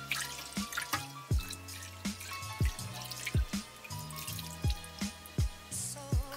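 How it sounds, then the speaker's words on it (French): A hand stirring bath water mixed with oats and flowers, with repeated drips, small splashes and liquid swishes in a loose rhythm, close and steady with no talking. "on voit beaucoup moins ma main quand je la mets dans l'eau"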